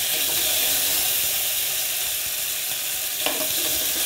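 Curry leaves and green chillies fry in hot oil for masala semiya, giving a steady close sizzle with a brief stir clink near the end, no voices.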